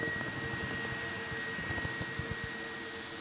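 A homemade cyclone vacuum dust collector runs steadily in a workshop, giving a continuous broadband whoosh of rushing air with a faint whine and small knocks of debris as it sucks up rubbish.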